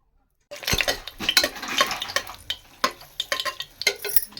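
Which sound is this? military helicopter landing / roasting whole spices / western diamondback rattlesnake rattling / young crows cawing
roasting whole spices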